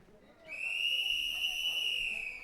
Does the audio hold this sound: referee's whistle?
yes